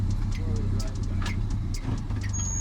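An off-road vehicle engaging four-wheel drive on a rough Colorado trail, its engine a loud, close, low rumble with steady pulsing throughout, a voice talking over it.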